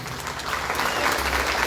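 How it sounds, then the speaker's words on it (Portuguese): A church congregation at an evangelical service applauds steadily, a dense wash of many hands clapping at a distance, sustained and even throughout with no clear speech over it. "Aplauda Jesus, igreja."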